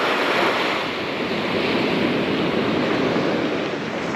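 Ocean waves wash continuously onto a surf beach shoreline in summer, a steady loud roar of broken surf with wind rushing over the microphone and no voices.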